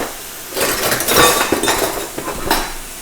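Cooked ground meat being broken up with onions in a pan, with close scraping and clinking of a utensil against the pan, steady and fairly loud throughout with no speech.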